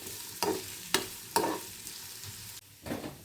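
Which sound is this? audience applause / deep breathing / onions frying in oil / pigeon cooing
onions frying in oil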